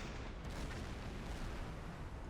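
A submarine deck gun fires in Silent Hunter 5, a dense, sustained burst of rumbling cannon blasts that fills the scene with no clear gaps between shots.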